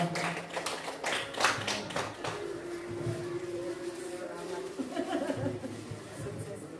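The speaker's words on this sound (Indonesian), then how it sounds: "Tepuk tangan untuk kita semua." An audience claps in scattered, uneven bursts at a school gathering, fairly faint, with light chatter and a bit of laughter mixed in.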